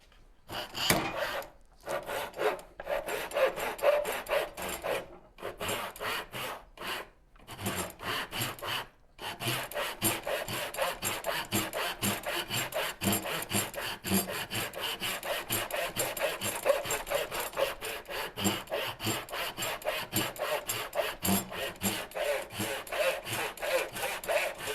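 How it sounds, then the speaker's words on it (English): A dull hand saw cuts through wood in steady back-and-forth strokes, a rasping scrape that repeats rhythmically for nearly half a minute, with a few brief pauses early on, close and alone. "Forgot how dull the saw is."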